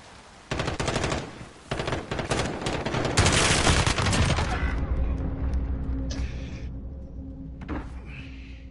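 Rapid gunfire in a console shooter video game, loud bursts of automatic fire that run together into a sustained barrage before tapering off into quieter game sounds.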